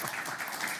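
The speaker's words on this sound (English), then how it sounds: "And you can applaud if you want." Audience at a finance conference clapping, a brief burst of dense applause from a crowd.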